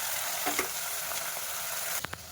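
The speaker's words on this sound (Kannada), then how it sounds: "ಈಗ ಮಟನ್ನು ಚೆನ್ನಾಗಿ ಹುರ್ಕೋಬೇಕು" Mutton frying in a pan for mutton sambar gives a dense, close sizzle, broken by a few quick scraping stirs near the end.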